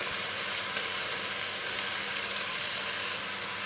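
Cleaned mutton pieces hit a pan of sautéed onions and fry with a loud, dense, continuous sizzle, close up and steady throughout with no talking.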